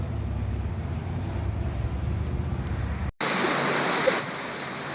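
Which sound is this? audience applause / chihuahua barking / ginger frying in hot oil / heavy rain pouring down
heavy rain pouring down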